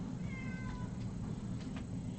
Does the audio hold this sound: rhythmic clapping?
no